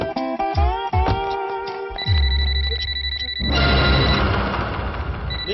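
A phone rings in a scene from the Telugu film Gunde Jaari Gallanthayyinde, a steady electronic tone sounding under other scene sounds and background music for a few seconds.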